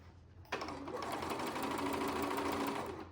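A sewing machine topstitches fabric for a sou'wester sun hat, its needle running at a steady, even whir close by from start to finish after a brief quiet lead-in.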